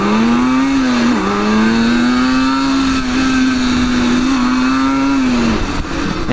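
A 1974 Suzuki GT185 two-stroke twin motorcycle runs loud and close, holding a steady buzzing idle-to-mid rev tone with a brief dip and recovery early on, then easing down near the end.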